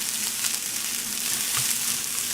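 Tomatoes fry and get stirred in a pan for a vegan dinner, giving a steady close sizzle with a few soft scrapes and clinks of the spoon.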